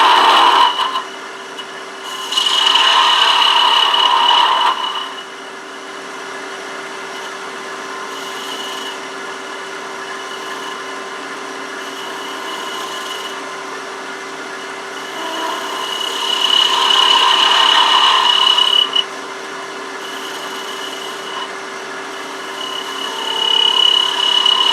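A woodturning lathe cutting away wood while shaping a chess king: a constant motor hum with a tonal whine, broken by two longer bursts of loud, rough cutting noise as the tool bites into the spinning wood.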